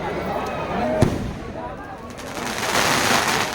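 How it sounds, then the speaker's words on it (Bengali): Fireworks crackle and pop through the night at a Charak festival at Ghonteshor temple, with one sharp close burst over a dense rolling crackle and faint voices in the crowd. "এখানে কিন্তু সারা রাতে এরকম আতশবাজি হবে"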